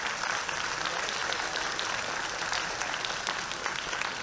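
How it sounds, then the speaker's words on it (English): An audience claps for a ballerina after her performance, a steady, moderately distant patter of many hands that holds evenly throughout without any voices. "Can we have a big round of applause to our ballerina once again?"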